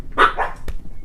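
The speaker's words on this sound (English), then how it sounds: "I got a package from the mailman, and my dogs must think it's treats for them." Dogs barking indoors at a package brought by the mailman: a couple of quick, loud, close barks followed by a short sharp yip.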